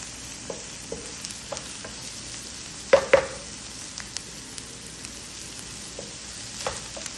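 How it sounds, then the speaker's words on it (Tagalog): Stuffing for a Filipino-style jareesh dish fries in corn oil, a soft continuous sizzle with occasional stirring clinks and scrapes, including a couple of sharper utensil knocks midway, with no talking. "الحشوة يا بنات ما نحمسها بزبدة عشان ما تحترق معنا الزبدة، نحمسها بزيت ذرة"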